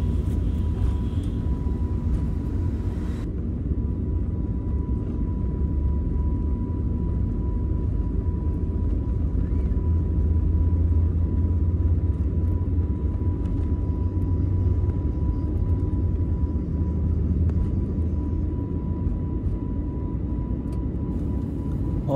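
Passenger airliner on its takeoff roll for a Jodhpur to Mumbai flight: a steady, loud, continuous low engine rumble and roar held throughout, with a thin constant tone above it and no speech.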